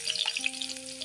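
Onions frying in a pan, a soft, steady close sizzle with light crackling over about a second, no voices.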